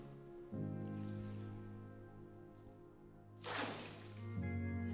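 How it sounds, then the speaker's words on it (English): A cup of water poured down a deep well, heard as a faint, distant splash from far below, set against a steady low hum in a quiet setting. "I want you to dip a cup of this water and pour it down the well."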